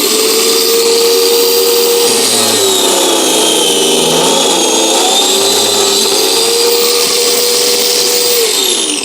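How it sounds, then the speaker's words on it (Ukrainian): A small angle grinder whines steadily at high pitch, loud and close, with its tone dipping briefly mid-cut before settling back. "Так, проста маленька болгарочка."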